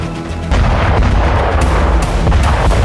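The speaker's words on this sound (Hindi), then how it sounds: "ये वीडियो ज़ेलेंस्की सेना के विस्फोट का है।" Heavy, rumbling blasts and booming detonations from the Russia-Ukraine war fill the clip, a dense barrage of explosions that starts abruptly and keeps pounding with sharp cracks throughout.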